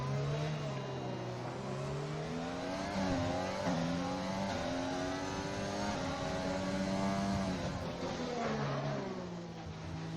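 A Formula 1 car engine in an F1 racing video game at the Azerbaijan round screams at high pitch, its tone climbing and dropping through gear changes, loud and continuous with no talking.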